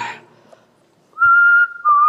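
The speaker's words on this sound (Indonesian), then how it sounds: "gue coba bersiul ya" A person whistles two short, clear notes close by, the first held longer than the second, with a faint rustle before.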